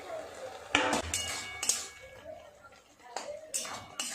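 A metal lid is lifted off a pot of boiling potatoes and greens during a bitter gourd recipe, giving two sharp clinks of metal on metal close by, with soft kitchen rustling between them.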